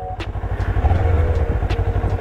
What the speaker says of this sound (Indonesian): Ini suara knalpotnya